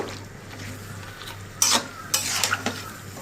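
Flat beans and new potatoes being stir-fried in a pan, with a soft steady sizzle under scraping and clinking stirs, a few louder scrapes of the utensil against the pan toward the end.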